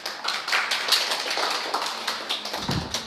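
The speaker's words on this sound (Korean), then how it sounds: "네, 큰 박수 한번 주시죠" Scattered clapping from a small audience at a policy debate forum, moderate and uneven with distinct hand strikes, thinning out toward the end.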